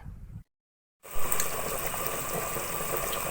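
Goat trotters for paya bubble in a pot at a full boil on a high flame, a steady close rolling roar after a brief silence.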